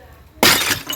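A ceramic toilet bowl is smashed with a large stone in one hard blow: a sudden loud crash and shatter, then fragments clattering and settling briefly.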